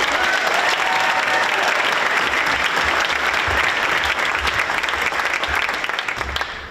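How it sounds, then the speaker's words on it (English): A crowd at a Media Arts Center tenth-anniversary event applauds loudly and steadily, then fades toward the end. "Now let's get a collective round of applause for all the 2025."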